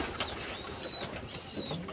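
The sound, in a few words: pet pigeons cooing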